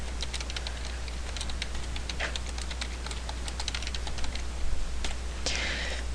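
Rapid keyboard typing, a quick irregular stream of light clicks over a steady low hum, with a louder burst near the end.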